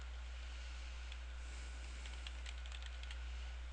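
Soft, quick tapping of keys on a computer keyboard, a faint burst of typing at close range over a low steady hum, no voices.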